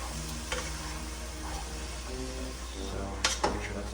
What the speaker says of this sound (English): we're going to deglaze the whole pan with soy sauce